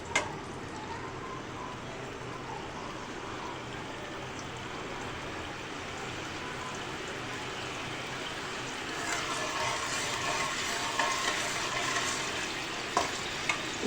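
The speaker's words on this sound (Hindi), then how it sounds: "जी तो लहसुन फ्राई होने पे है," Garlic paste fries in hot oil in a wok for a vegetable macaroni pizza, giving a continuous soft sizzle that grows slightly louder and brighter partway through, with a few faint clinks from stirring.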